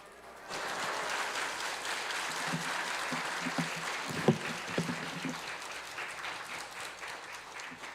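A Korean church congregation at a Sunday afternoon service at Sasang Church bursts into steady applause after a brief quiet start, a dense, even clapping texture with a few louder individual claps near the middle that holds throughout.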